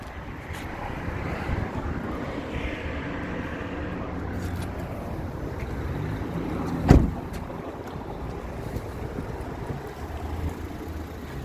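A nearby Renault Megane engine runs steadily beside a 2008 Nissan Qashqai, a continuous low rumbling drone with a brief sharp knock partway through.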